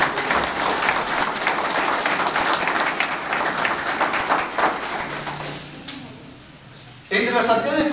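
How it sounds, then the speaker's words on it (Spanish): A crowd at a public gathering in Cajabamba applauds the young people present, heavy clapping that fades out around the middle before a voice begins speaking near the end. "A los jóvenes que están aquí presentes también les pido un fuerte aplauso para ellos."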